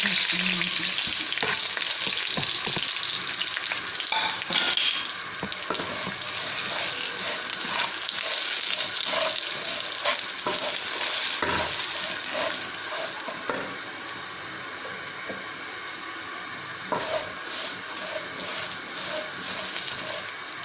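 Vermicelli fries in ghee with cardamom seeds in a kadhai, a dense close sizzle with frequent scraping and clattering as it is stirred, fading slightly toward the end.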